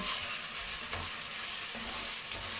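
Onion sautéing in a pan with cinnamon sticks and dried lemon, a steady broad sizzle with a few soft stirring scrapes, close and fairly quiet, no talking.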